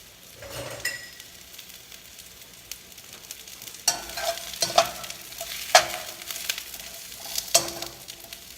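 Mushrooms frying in olive oil in a pan, with a soft steady sizzle under several sharp scraping stirs and clacks of a utensil against the pan, close and moderately loud.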